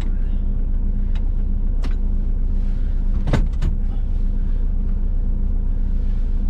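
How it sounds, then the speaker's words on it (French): A truck's engine runs after being started inside the cab during a heavy-vehicle licence check, a loud, constant low hum with a few faint clicks and one brief rattle over it. "Je démarre le véhicule."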